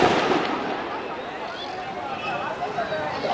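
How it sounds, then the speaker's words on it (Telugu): Firecrackers burst at a Dasara celebration in Hyderabad, a dense continuous crackle of small pops at moderate distance, steady throughout. "తర్వాత మన యొక్క తపకాలు చివరిగా పేలిపోతున్నాయి."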